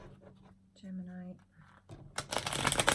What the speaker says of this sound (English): I have to put my other cards back.